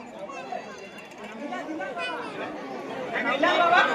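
Devotees crowd together at a Mahashivratri festival gathering, a dense murmur of many overlapping voices chattering at close range, with the hubbub swelling slightly toward the end.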